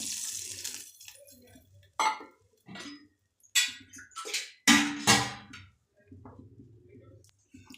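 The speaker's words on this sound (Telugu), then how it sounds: "దానికి సరిపడంత వాటర్ పోసుకుంటున్నాను" Water poured over tomatoes and tamarind in a vessel for rasam, arriving in several short splashing bursts separated by quiet gaps, close and fairly clear.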